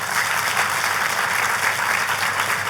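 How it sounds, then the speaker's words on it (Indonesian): A church audience applauding its pastor, dense continuous clapping filling the room at a steady, loud level throughout. "Tapi boleh gak sih kasih tepuk tangan untuk gembala sidang saudara?"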